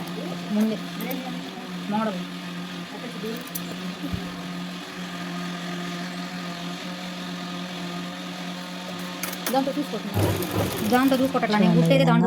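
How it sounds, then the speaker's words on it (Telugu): A sewing machine stitches pieces of a model blouse, its motor whirring in a steady hum with short pauses, while someone talks over it and a louder clattering burst comes near the end. "మొత్తం కుట్టేసుకోవాలి ఒక రంగులంతో మనం బాగా లాగకుండా రౌండ్ తిప్పుకుంటూ ఇట్లాగా"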